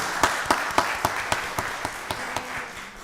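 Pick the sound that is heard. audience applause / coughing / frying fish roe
audience applause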